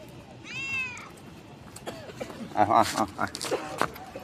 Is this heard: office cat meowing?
yes